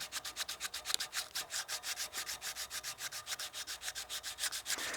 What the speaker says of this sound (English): That way we're cutting with the sandpaper just on the flat face here.